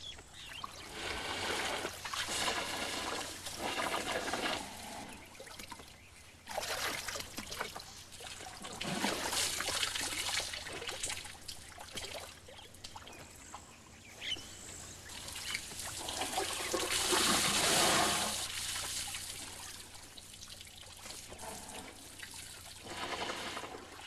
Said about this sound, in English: He blows water on it and feels it with his trunk.